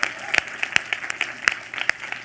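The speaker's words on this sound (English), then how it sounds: "So let's give them a round of applause again." Audience applause at the Women in Tech Festival 2017 after startup pitches on stage: a short burst of steady, moderately loud clapping from a seated crowd, with sharp individual claps standing out and faint voices underneath.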